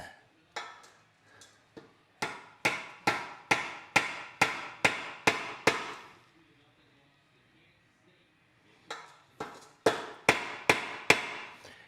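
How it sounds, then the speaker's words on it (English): Rod ends lightly tapped into tie rod tubes while assembling a Nerd Rods C4 Ackerman kit for a 1957 Chevy truck: a quick run of about a dozen sharp, close metallic taps, a brief quiet pause, then another burst of taps. "put these into my ends and lightly tap them till I'm at that 3/4 inch mark"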